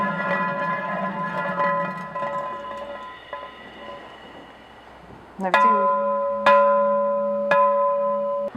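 Glass pieces are struck like bells, giving clear ringing tones; a cluster of soft chimes fades, then three sharp, bright strikes ring out one after another and sustain.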